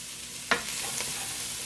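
Bell peppers cooking in a hot pan for a stir fry, a steady close sizzle with one brief scrape or toss knock partway through.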